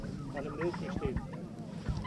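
Turkeys at a poultry show in Peqin, Albania give a few warbling gobble-like calls at moderate distance, mixed with background voices and crowd noise.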